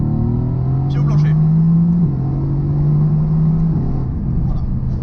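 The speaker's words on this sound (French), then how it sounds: "Et écoutez ça, deuxième, pied au plancher." A Mercedes-AMG GTS accelerating at full throttle in second gear, its engine note loud and close as it climbs steadily, breaks with a quick shift, then pulls again with a deep rumble.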